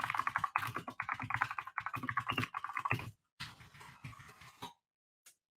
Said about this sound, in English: as I was typing live, I made a little typo